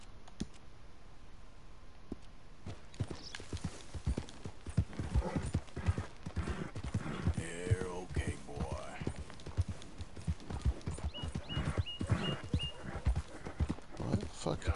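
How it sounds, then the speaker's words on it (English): Hooves clip-clop steadily as a horse walks, with occasional huffing breaths and a neigh, loud and close throughout while someone talks over it. "Is this horse all huffy?"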